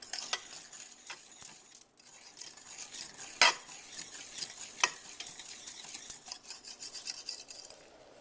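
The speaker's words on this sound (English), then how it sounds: "what I'm going to do is just whisk this all together and bring it to a boil" Homemade chocolate syrup being whisked in a pot on the stove: a steady scraping, stirring rasp with metal clinks against the pan, close and continuous, with no talking.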